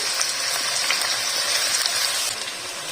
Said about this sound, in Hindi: अब उसमें प्याज डाल देंगे। अच्छे से फ्राई कर लेंगे इसको।